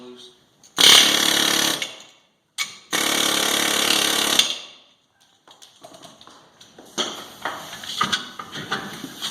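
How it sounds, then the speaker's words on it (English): Air hammer pounding on a rear brake rotor of a Ford Super Duty F250 4x4 truck, two loud close bursts of rapid hammering followed by lighter knocking and clattering of loosening parts. "so I'm going to hit this with the air hammer. It's going to be a little bit loud."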